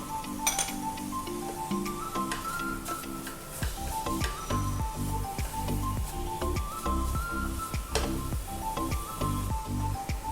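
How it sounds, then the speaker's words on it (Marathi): A spoon clinks and scrapes against a pan as a cup of jaggery is stirred into grated coconut fried in ghee, in quick repeated metallic taps over a dense rhythmic clatter, with no talk. "आता आपण त्याच्यामध्ये गूळ घालणार आहे एक वाटी गूळ छान मिक्स करून घ्यायचं आहे"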